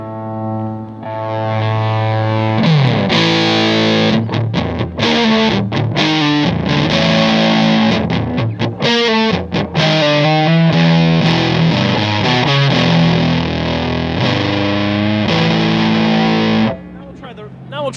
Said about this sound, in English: let's make a fuzz face, but let's make it silicon transistors instead of germanium